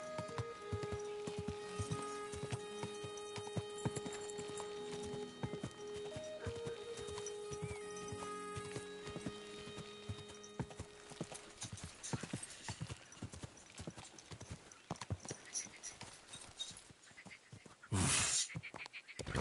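Hooves clip-clop in a steady rhythm over a background of game music in Kingdom Come 2, with a horse whinnying briefly near the end.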